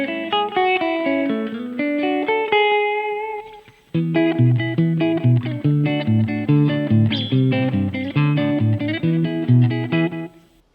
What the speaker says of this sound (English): a very short slapback echo from a tape unit placed inside a guitar amplifier